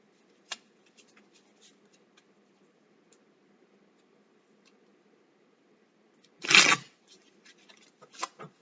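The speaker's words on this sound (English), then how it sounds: "Let me give you a good shuffle here" A quiet room with faint ticks, then a brief burst of tarot card shuffling, followed by a few lighter riffles and taps.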